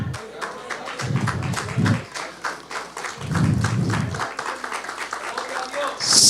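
A church congregation applauds in loud bursts of rhythmic clapping with low thumps, under a preacher's ongoing speech.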